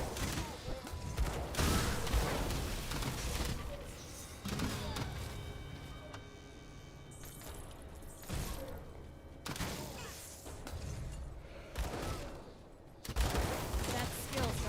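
Pistols firing in the action video game Aether RoH, loud shots clustered in bursts with brief lulls between volleys and a few heavier thuds mixed in.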